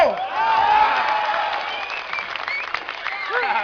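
Crowd at an election rally in Ahmedabad for the 2012 Gujarat election applauding loudly and steadily, with cheers and whoops rising over the clapping.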